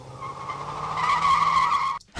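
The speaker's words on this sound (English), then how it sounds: "I'll change this to a cool car peel out sound effect." A car peels out in a short tire-skid sound effect, a sharp, steady screech that holds for about two seconds, then cuts off abruptly.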